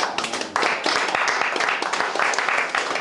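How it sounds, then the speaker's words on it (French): A church congregation claps and applauds during a French-language worship service, a steady dense patter of hands sustained throughout at close range. "Acclamons pour le Seigneur"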